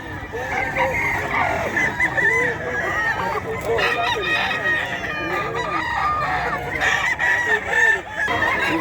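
Roosters and hens at the Bocaue pet market crow and cluck in a busy overlapping chorus, several birds close by with repeated loud crows over a noisy crowd background.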